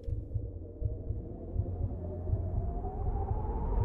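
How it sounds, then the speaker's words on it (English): Heartbeat sound effect in an episode of the animated series RWBY, a low, muffled, throbbing pulse under a steady hum that slowly rises in pitch, with no talk. "Heartbeat."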